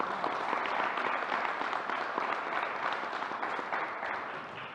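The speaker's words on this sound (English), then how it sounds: "so let's give her a round of applause." An audience at a news conference gives a sustained round of applause, thick steady clapping from many hands in a large room, gradually thinning toward the end.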